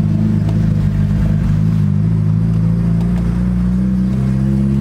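A car with a newly installed M32 gearbox and limited-slip differential drives along, its engine humming and revving steadily with a deep rumble, loud and close, no talk.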